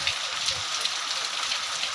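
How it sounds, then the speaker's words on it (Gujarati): Rain falls steadily on a village in Kokda, Vanthali taluka, Junagadh, giving an even, dense hiss of drops hitting surfaces nearby, with no talking. "વરસાદ સારામાં સારો વરસે છે"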